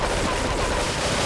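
Rapid, dense burst of gunfire from a weapon in the video game GTA 3, continuous and loud, with no voices.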